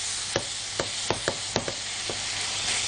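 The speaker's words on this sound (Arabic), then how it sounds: "بدات الفراخ خلاص تدخل في التسويه" Chicken pieces cooking in a pan for chicken kibbeh, a constant hiss of frying broken by several sharp stirring knocks and scrapes.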